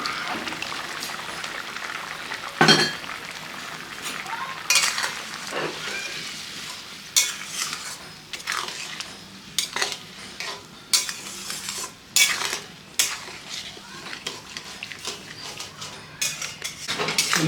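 Tamarind water is poured into a chutney cooking in a pan, followed by steady stirring with a utensil and occasional sharp clinks against the pan over a soft sizzle, close up and with no talking.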